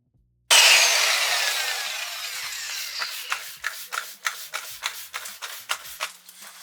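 Hand sanding car paint on an Audi: a long initial scrape followed by quick, rhythmic back-and-forth rubbing strokes, close and fairly loud.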